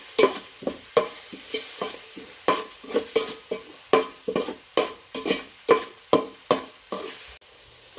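Onions sautéing with ginger garlic paste in a pan for fish biryani, with a loud, rhythmic scraping of a spoon stirring repeatedly over a soft, steady sizzle, close up and without speech.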